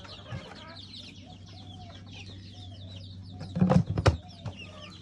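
Chickens kept in a poultry farm with laying cages give off soft, scattered clucks and low calls, with a louder cluster of squawks near the end over steady low farm hum.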